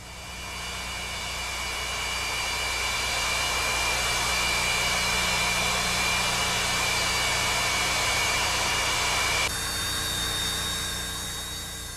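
Antonov An-225 Mriya transport jet with six Lotarev D-18 turbofan engines gives a loud, steady roar with a high-pitched whine riding on top, holding constant for about ten seconds before the tone shifts slightly near the end.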